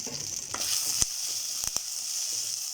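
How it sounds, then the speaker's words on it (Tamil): Pepper, garlic and curry leaves fry in a pan for curry leaf kulambu, a steady close sizzle broken by a few sharp clicks of a spoon against the pan, with no talking. "மிளகு பூண்டு கருவேப்பிலை மூணுத்தையுமே நல்லா வறுத்துக்கோங்க."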